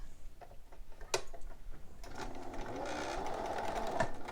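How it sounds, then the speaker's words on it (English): A sewing machine stitches a seam on a romper mockup, a few slow ticking clicks first, then a steady, close mechanical whir of running stitches. "And now you're going to stitch that at that 5/8 line, which should be right where your gathering stitches are."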